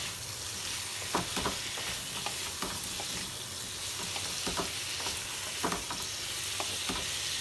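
Pumpkin with spices and a little sugar frying in a pan, a continuous sizzle broken by repeated spoon stirs and scrapes spread through, close and steady with no talking.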